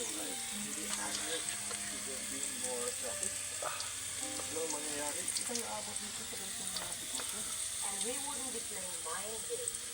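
Okra and dried fish fry in a pan with a steady, crackling sizzle running through the whole stretch, with occasional scraping stirs and voices talking in the background.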